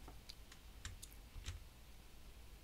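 Sparse, faint clicks of a computer mouse pressing the Windows Start button, a few isolated taps over a quiet background hum.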